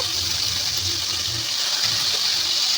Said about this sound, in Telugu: సో పేస్ట్ అయితే ఇప్పుడు ఆయిల్లో వేసుకుందాం.